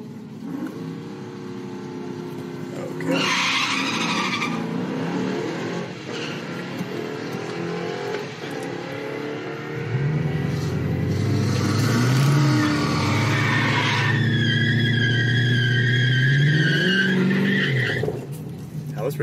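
Cars race down a drag strip, heard from inside a car through a partly lowered window: engines rev and scream in bursts, tires squeal, and a deep close idle rumbles underneath.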